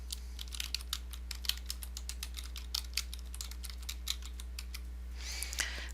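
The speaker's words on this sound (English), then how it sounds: "article by SOU professor Linda Wilcox Young, I will type in her name," Typing on a computer keyboard into a search box, a quick, close run of light key clicks at an uneven pace over steady low electrical hum, ending with a short burst of softer noise.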